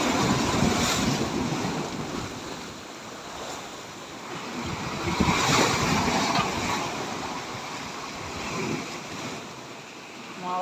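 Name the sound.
ocean waves on beach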